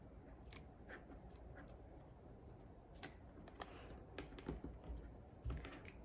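Scissors cut through craft paper in a series of small crisp snips and crunches, irregular and close, several sharper cuts toward the end, faint overall and with no talking.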